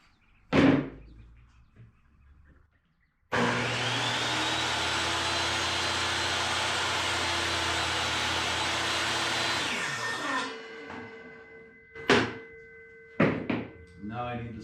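A power saw cuts a piece of wood to length for a bird feeder, running loud and steady for about seven seconds after a short knock, then winding down, followed by a few clunks and knocks.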